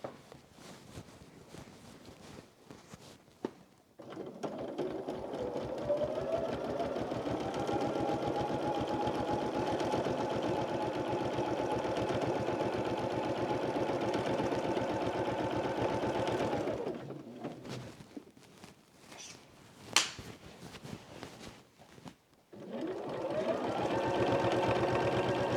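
A sewing machine fitted with a walking foot quilts through a heavy Animal Crackers quilt, whirring in a long steady run, then pausing with a sharp click, then starting up again, close and even.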